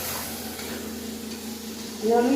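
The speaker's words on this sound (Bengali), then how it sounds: "কচুগুলো দিয়ে আর বেশ কিছুক্ষণ আরও কষাবো আমি এই মাছ দিয়ে কচুটা রান্না করছি" Taro and rohu fish fry in a pan, a steady close sizzle with soft stirring, and a short voiced sound rises near the end.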